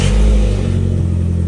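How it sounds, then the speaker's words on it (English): Mk4 VW GTI engine running just after a cold start following sitting, a loud steady low rumble close by with a brief rev at the start, no talk. "Okay, so this car's been sitting, so it's gonna be a pretty cold start."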